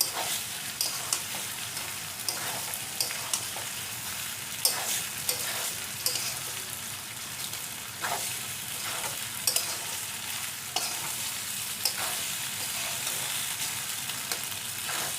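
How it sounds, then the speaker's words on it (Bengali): Soft boiled pasta tossed with vegetables in a hot pan for egg chicken pasta: a continuous low sizzle runs throughout, with regular light scrapes and taps from the stirring utensil. "তো পাস্তাটার সাথে সবজিটা দিয়ে মিশিয়ে নেবো একটু"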